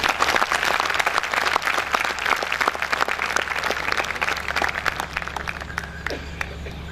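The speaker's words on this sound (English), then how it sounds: "So give them a round of applause." A university convocation audience breaks into sustained applause, dense and steady clapping from a large crowd that holds at full strength for several seconds before easing slightly near the end.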